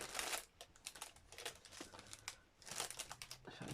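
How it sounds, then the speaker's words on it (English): Paper pages being pulled apart for a sunflower-themed journal crinkle and rustle in short bursts, close and fairly soft, with a pause in the middle. "Sorry about the crinkling."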